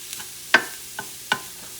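Blackened mahi mahi and cauliflower couscous are pushed around a hot pan, three short scraping strokes against the surface over a low, steady sizzle.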